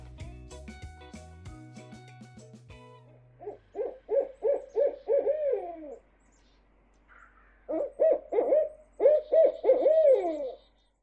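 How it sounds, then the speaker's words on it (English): Barred owl giving its rhythmic 'who cooks for you' hooting call, two bursts of about eight deep hoots each, separated by a short pause and following some brief unrelated sound at the start. "play this cool audio of a barred owl"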